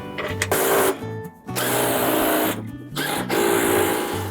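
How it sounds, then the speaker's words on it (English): A power tool whirs in loud bursts as nuts are run back onto a PerfectCUT cutter bar during maintenance, with brief pauses between runs. "Once those 4 holes line up, we can put the nuts"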